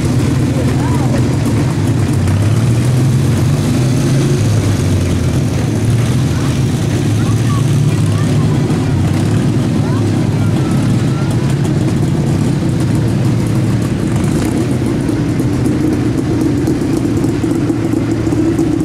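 A small wartime military car drives past in a soldiers' parade in Valga, its engine a steady low rumble throughout, with crowd noise and voices around it.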